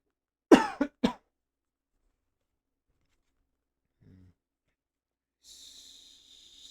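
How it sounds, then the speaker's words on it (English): Three quick coughs close to the ear, then silence with a faint breath or snort and some hissy background noise. "still have a bit of a cough."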